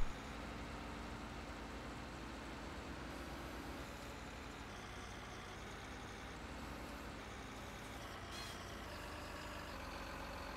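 Truck loaded with maize in Farming Simulator 19, a steady droning engine rumble with broadband road noise, continuous and fairly faint, no voices.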